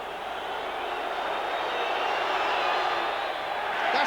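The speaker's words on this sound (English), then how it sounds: "That's the answer to all the booing" A large crowd of Gaelic football supporters at the 1989 Leinster Football Final between Dublin and Meath produces a steady, broad roar of booing and jeering, heard from a distance as a continuous wash of crowd noise.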